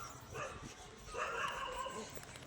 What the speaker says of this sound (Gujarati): આપણા આ ભારાભાઈનું હસ્કી,